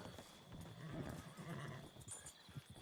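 A horse whinnies amid hoofbeats and a busy game-like background, moderately loud and continuous for a few seconds.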